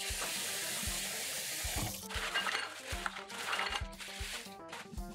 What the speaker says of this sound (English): Rinse them like 3 or 4 times until the water comes out clean.